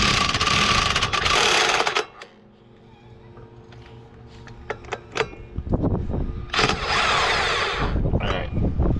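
Mechanical ratcheting and tool whirring while the reverse-thread primary clutch bolt on a CForce 800 XC is tightened, with loud bursts of clatter, quieter rattling clicks between them, and no talking.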